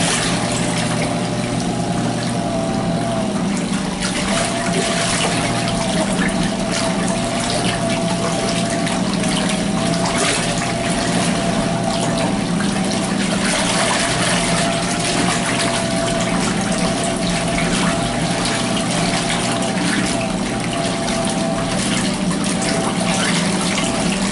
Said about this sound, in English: I'll select the 5-minute cycle, which is the rinse. It will rinse and drain.